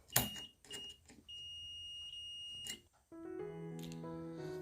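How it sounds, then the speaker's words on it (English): Buzzer tones from a faulty Samsung LED TV power supply board with a shorted output diode: several short high beeps, then a steady high whine, then a lower multi-tone buzz, close and moderately loud. "Here you can hear the buzzer sound."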